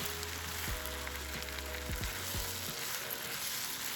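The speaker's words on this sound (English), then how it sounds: "Stir frying all the vegetables together for another 5 minutes or so." Steady sizzling of bok choy and other vegetables stir-frying in a hot pan, with a few scraping stirs near the start and a constant crackle throughout.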